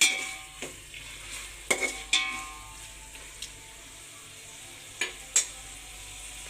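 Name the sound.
stirring vegetables in a pan for veg biryani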